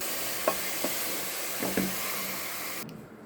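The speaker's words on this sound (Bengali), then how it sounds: "এখানে আমি ভুঁড়িগুলো ঢেলে দিব" Beef tripe going into onions frying in a pan, a close steady sizzle with a few stirring knocks, the hiss dropping away sharply near the end.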